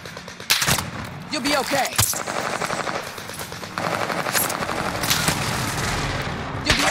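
Dense automatic gunfire in Call of Duty Warzone rattles in long bursts with sharp single cracks, loud and close, while a teammate speaks briefly over the shooting.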